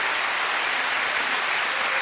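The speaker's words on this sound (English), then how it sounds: "Ladies and gentlemen, let's give them a huge round of applause." A TV studio audience on Surprise Surprise gives a loud, continuous round of applause, dense even clapping filling the whole two seconds with no talk.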